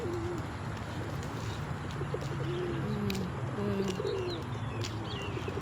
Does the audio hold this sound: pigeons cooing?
yes